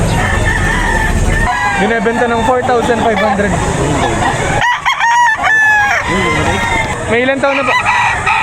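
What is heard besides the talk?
rooster crowing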